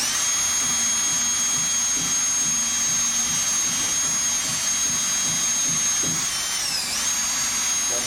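A power drill spins its bit at top speed into a workpiece, giving a steady, loud high whine with faint grinding underneath, then a brief dip and recovery in pitch near the end.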